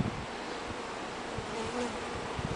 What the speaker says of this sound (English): I've never had so many bees on me in my life.